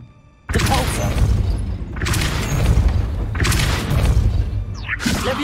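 A Depulso force spell cast in Hogwarts Legacy, heard as three loud, close booming blasts with crashing debris, one after another in a steady rhythm, the last trailing off into the next.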